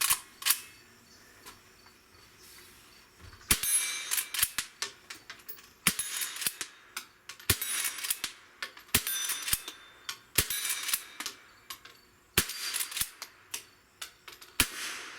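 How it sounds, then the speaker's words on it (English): A Henry .22 Long Rifle fired outdoors on a shooting range, roughly a dozen sharp, loud cracks spaced a second or two apart, each ringing out briefly, with no talking between shots. "this is a 22 long rifle, so we're gonna send a few with this."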